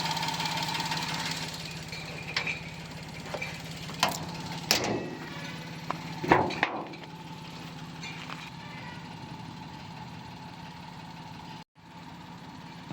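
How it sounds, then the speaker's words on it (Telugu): A 2017 Maruti Suzuki Alto 800 LXi petrol car idles with a steady, moderate engine hum, broken by a few sharp clicks and knocks, and no talk over it. "ఇంజన్ సౌండ్ చూడండి, ఇంజన్ కూడా స్మూత్ ఉన్నది సౌండ్"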